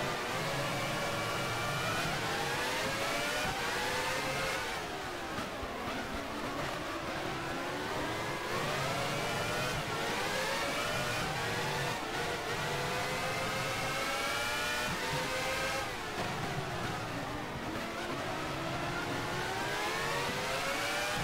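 Formula 1 cars from the 1994 Brazil round scream past in the F1 Challenge racing game, engines continuously revving up and down through gear shifts, loud and dense with several cars overlapping.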